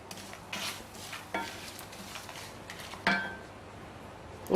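Soft scraping and occasional light clinks of a utensil against a pan as asafoetida and spices for vathal kuzhambu are stirred, quiet and close, with no voices.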